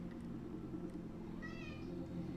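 A pet cat gives one brief meow partway through, faint and close, over a quiet room tone with no voices.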